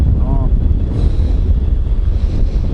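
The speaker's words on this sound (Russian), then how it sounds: "Ветер поменялся, из-за этого сдувает." Strong wind buffeting the microphone outdoors on a boat during a taiga fishing trip, a loud, continuous low rumble and roar throughout.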